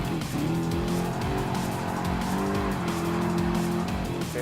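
Car tires squeal through a slide turn in Gran Turismo Sport, with a loud, sustained engine drone and screeching tire skid running steadily throughout, close and continuous.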